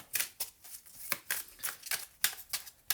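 Tarot cards being shuffled by hand, a crisp run of riffling bursts repeating every few tenths of a second, close and fairly quiet with no voices.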